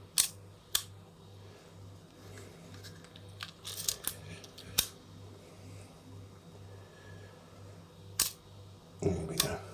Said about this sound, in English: So if I set the shutter on its B setting, you should see the shutter working.